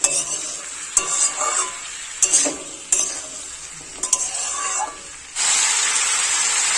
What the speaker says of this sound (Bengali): মশলার সাথে আলু লাল শীতের ডাঁটা খুব ভালোভাবে কষাই করে নিতে হবে